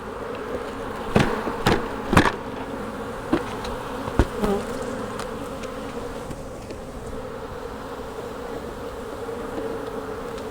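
Honey bees from a brood frame in a beekeeping split, a steady dense buzz throughout with several sharp knocks and thumps in the first half as the frame is shaken.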